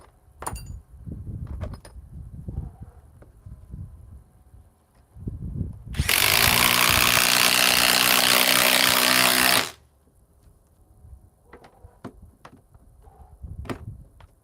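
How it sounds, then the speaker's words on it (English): A Ryobi compact impact wrench runs in one loud, continuous burst of about four seconds, with a sharp mechanical buzz. Faint handling clicks and knocks come before and after it. "it has more power than a lot of other compact impact wrenches"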